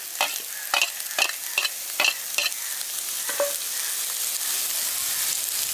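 Chopped carrot and beans frying for chicken vegetable cutlets, a steady bright sizzle with a run of sharp regular stirring scrapes early on, then continuous frying hiss alone.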